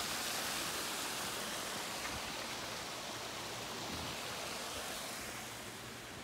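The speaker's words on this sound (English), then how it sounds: "There is waterfall and a pond." A waterfall in a private park pours steadily, a dense, even rushing hiss that stays constant and fairly quiet throughout with no voices over it.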